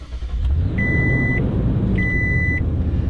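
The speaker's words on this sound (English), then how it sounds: "All right, let's give it a push start." A Toyota Tundra SR5 pickup started by push button: a steady, loud low engine rumble runs throughout, with two short electronic chime tones sounding about a second apart.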